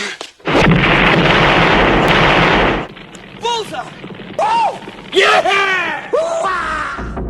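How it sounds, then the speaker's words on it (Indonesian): A rocket launcher blast destroys a hideout in the Rambo film First Blood: a loud, sustained roaring explosion for a few seconds, then quieter voices and scattered sounds after it. "mereka memutuskan untuk meledakkan tempat itu dengan peluncur roket"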